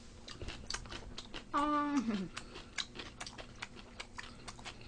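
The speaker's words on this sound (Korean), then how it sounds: "김장김치 한번 먹어보, 먹어보겠습니다" Someone eats kimchi up close, with crisp, crunchy chewing throughout and a brief hummed "mm" of enjoyment partway through.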